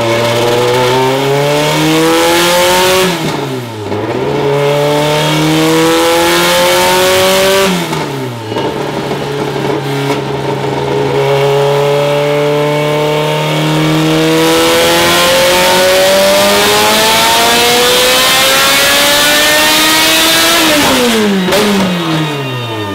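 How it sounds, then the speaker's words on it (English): A Honda Civic all-motor engine with a 99 mm stroke revs loudly and close in long sustained pulls, climbing and dropping with brief lifts between runs, on what sounds like a dyno, no voices. "This is a very, very healthy 99 millimeter stroke engine."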